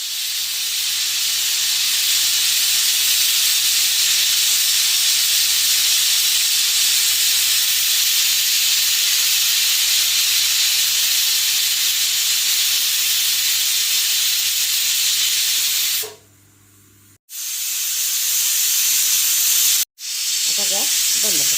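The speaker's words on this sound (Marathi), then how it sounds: "कुकरला टोपण लावून घेऊन 4 शिट्या द्यायच्या" A pressure cooker on the stove cooking Karnataka-style avarekai pulao with field beans lets off a loud, steady hiss of escaping steam that runs for about sixteen seconds, stops abruptly, then returns in brief bursts.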